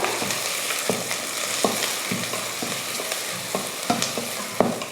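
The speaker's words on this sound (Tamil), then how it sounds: "இப்போ இதை வதக்கிடலாம். நல்லா கலர் மாதிரி வர வரைக்கும் வதக்கிக்கோங்க." Sliced onions and three green chillies sauté in a hot pan for kushka with chicken curry: a loud, constant oily sizzle close up, broken by regular spatula taps and stirring scrapes, with no voices.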